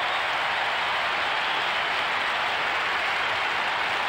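Crowd applause and cheering at a 1998 Fremantle Australian football match: a dense, steady wash of clapping and roar that holds at even loudness throughout, with no clear voices on top.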